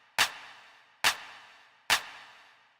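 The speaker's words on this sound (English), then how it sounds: "it's just a clap with a reverb on it" A drum machine clap sample drenched in reverb, struck three times at an even, slow pulse, each crisp hit trailing off into a short wash of reflections, alone with no other sound.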